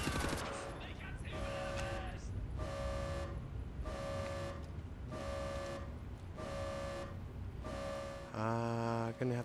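Evenly spaced bursts of gunfire ring out in Wolfenstein: The New Order's U-boat level, about seven regular repeated volleys with a tonal ring to each, steady and moderately loud, ending with a different metallic burst.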